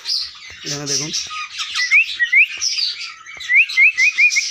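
Baby green Indian ringneck parrots awaiting hand-feeding make a run of shrill chirps and rising squawks in quick, uneven bursts, close by, after a brief spoken phrase near the start.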